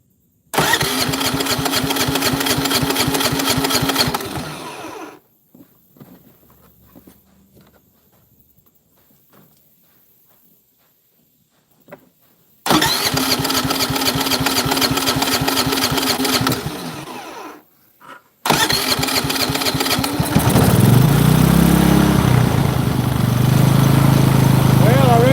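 A generator that can power a whole RV and has trouble restarting runs loud and close with a steady, throbbing engine drone. It cuts out to near silence, then cranks and runs again in repeated bursts.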